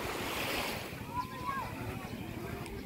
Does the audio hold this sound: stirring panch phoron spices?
no